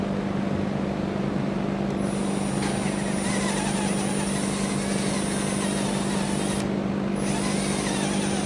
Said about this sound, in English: let's give it a try with a 9/32 drill bit.